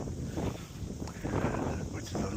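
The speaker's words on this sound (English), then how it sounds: "You can hear the wind. It's quite windy up here." Wind blows across a grassy hilltop track in Totara Park, Auckland, a constant rough buffeting roar against the microphone with gusty surges, while a voice speaks faintly underneath.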